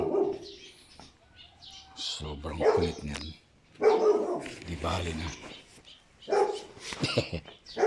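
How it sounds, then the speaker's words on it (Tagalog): A dog barks several times in short bursts near a rural home on a hot day, mixed with talking voices and faint bird chirps. "Tumatahol yung aso dahil ayaw magpaiwan."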